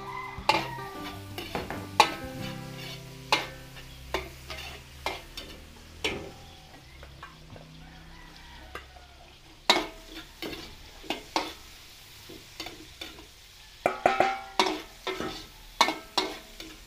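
Onion and chorizo de Bilbao are sautéed in a pan, a soft sizzle running under sharp scraping and clacking stir strokes that come in irregular clusters, close and clear.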